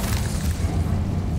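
A spell cast in the Hogwarts Legacy video game, the Incendio fire spell, gives a dense low whooshing roar of flame that holds steady and loud through the moment, with no voices.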